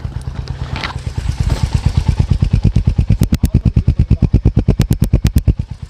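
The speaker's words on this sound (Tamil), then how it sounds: "வண்டியோட நார்மல் பீட் பாருங்கள்." A Royal Enfield Hunter 350 motorcycle idles up close with a loud, steady, even thumping beat, each low pulse evenly spaced, plus faint mechanical ticking over the rhythm.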